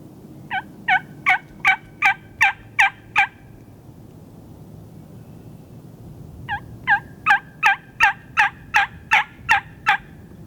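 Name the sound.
wild turkey gobbling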